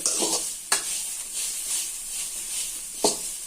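Ponnaganti greens frying with salt in a pan while being stirred: a steady close sizzle with a few sharp scrapes of the spoon against the pan at irregular moments.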